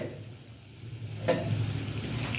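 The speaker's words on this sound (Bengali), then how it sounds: "চিনিটা লাল হয়ে উঠছে আর আমি এখন গোটা গরম মশলাগুলো দিয়ে দেবো এর মধ্যে" Whole garam masala hits hot caramelized sugar and oil for chui jhal chicken, and a close, steady sizzle bursts up and then keeps hissing continuously with no talking.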